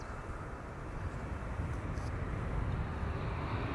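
A Transavia Peter Pan Vacation Club livery airliner arriving from Faro, a steady broadband engine roar building slightly in loudness over a few seconds, distant and unbroken.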